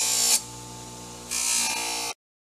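A small rotary tool with a polishing wheel buffs a golf putter, giving a close, steady high-pitched whine that drops to a lower hum in the middle and then rises again before cutting off.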